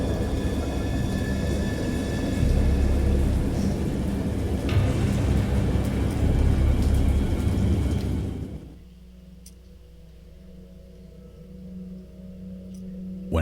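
A storm in a video game brings a heavy, loud rumble of thunder over pouring rain that rolls on for about eight seconds, then drops abruptly to a much quieter, sparse background.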